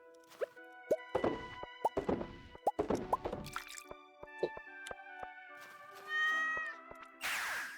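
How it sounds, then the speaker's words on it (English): Cats meowing in the video game Stardew Valley, several short meows in quick succession among game plops and drips, then longer drawn-out tonal calls near the end. "All these cats out here during winter"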